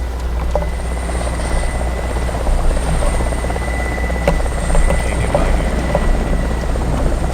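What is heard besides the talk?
helicopter flying overhead in ArmA 2 Namalsk Crisis mod, video game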